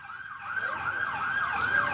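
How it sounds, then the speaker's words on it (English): An ambulance siren passes outside a courthouse, its wailing tone rising and falling continuously and growing slightly louder. "We've got an ambulance going by for a minute here"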